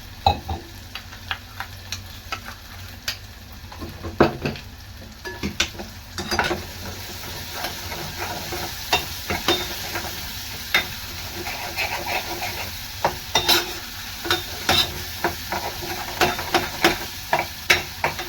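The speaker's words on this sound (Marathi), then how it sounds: "कढईमधल्या ग्रेव्हीमध्ये टाकावी व ते मिक्स करून घ्यावी." Paneer masala gravy sizzles and scrapes in a kadai as it is stirred, with irregular clinks and taps throughout; steady, close, and no voices.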